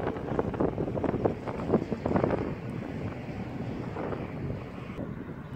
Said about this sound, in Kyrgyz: Көрүп турасыздар, катуу шамал болуп атат.